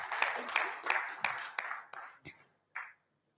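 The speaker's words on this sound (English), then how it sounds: "Let's have a round of applause" Audience applause at a conference: a burst of clapping from a seated crowd, loud at first, then thinning out and fading over a few seconds, with a few scattered late claps.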